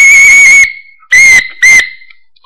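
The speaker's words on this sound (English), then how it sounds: "Yeah, it's a pretty loud whistle." Three piercing, high blasts from a makeshift plastic whistle from an Altoids survival tin, close by: one long, then two shorter ones, each clear and steady in pitch, with silence between them.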